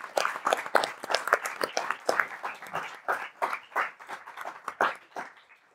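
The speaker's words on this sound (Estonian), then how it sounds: "Esiteks mega suur aplaus teile kõigile" An audience at a live podcast recording applauds, with dense, steady clapping from a small crowd that stays fairly loud before tapering off near the end.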